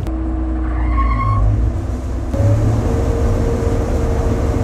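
A combine harvester is started up again during a corn harvest with its protective cover left off, giving a loud mechanical roar with a pitch sweep as the machine comes up to speed and then holds steady.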